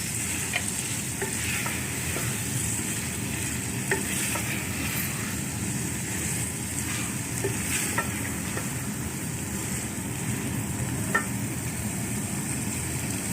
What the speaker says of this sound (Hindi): अब हम इसमें सब्ज़ी डालेंगे। और इसे करेंगे अच्छी तरह मिक्स।